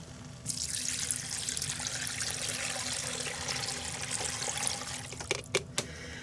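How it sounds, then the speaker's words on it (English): Three cups of broth pour into the pot of a Ninja Foodi pressure cooker in a steady, continuous liquid stream lasting several seconds, ending with a few clinks. "now I'm going to put the 3 cups of the broth in here"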